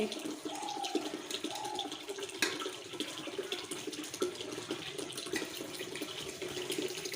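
A tank tap runs water into a container, a steady close hiss of pouring and splashing that continues throughout with a few brief knocks.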